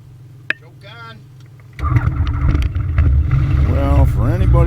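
A Rotax 912 engine on a BushCat light aircraft cranks and catches, then runs with a steady, loud drone that builds through the second half.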